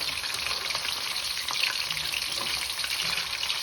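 Beef strips deep-fry in hot oil for crispy chilli beef, giving a steady, dense sizzle and crackle at close range with no voices.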